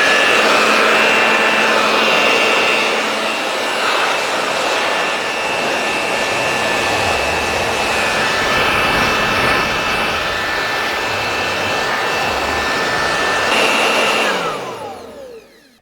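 A compact battery-powered leaf blower switched on with a simple slide switch, rated for 155 mph of airflow, produces a steady, loud whirring rush of air that holds for about fourteen seconds before spinning down.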